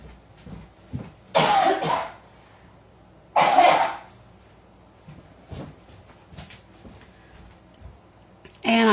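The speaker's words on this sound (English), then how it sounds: "Hold up, I got a cough." A man gives several sharp, close coughs in separate loud bursts, with a couple of longer harsh ones and smaller throat sounds between them, and no words spoken.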